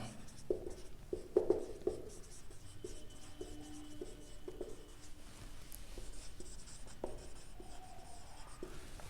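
Chalk tapping and scraping on a board during a numerical methods maths lecture on Lagrange's interpolation formula, a few sharp taps early on, then light scratchy strokes continuing faintly through a quiet room.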